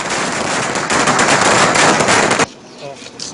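Firecrackers burst in a dense, rapid crackling string during celebrations outside a residence, loud and close, then cut off abruptly into quieter crowd murmur.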